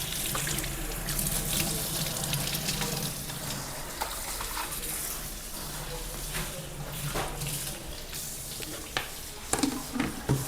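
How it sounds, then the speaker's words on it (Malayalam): Water runs and splashes into a pot of Kerala-style yam curry with ground coconut, a steady pouring wash with faint sizzling and stirring beneath, ending in a few clinks. "വെള്ളം പാകത്തിന് ചേർക്കാം."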